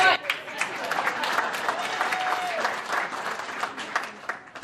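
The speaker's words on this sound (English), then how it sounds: "We can clap for you." Audience at a chamber of commerce board installation ceremony applauding, moderately loud steady clapping that carries on for several seconds with a few voices underneath.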